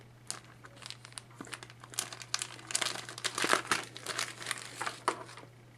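A lace wig strap is pulled from its plastic packaging with close, busy crinkling and rustling that builds in bursts over a few seconds, over a faint steady hum.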